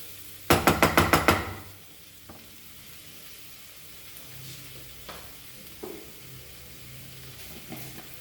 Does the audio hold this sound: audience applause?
no